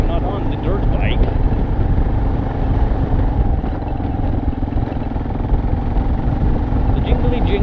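A KLR dual sport motorcycle on a rough mountain trail makes a continuous close engine drone with rattling and jingling, and a brief voice sounds near the start.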